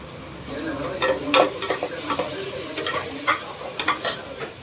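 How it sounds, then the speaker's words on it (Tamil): Tomatoes and green chillies sautéing in oil for mushroom biryani, a steady sizzle broken by repeated scraping stirs of a spoon against the pan, close and fairly loud with no talking. "ரெண்டு தக்காளி தக்காளி போட்டாச்சு நல்லா வதக்கி ரெண்டு பச்சை மிளகா"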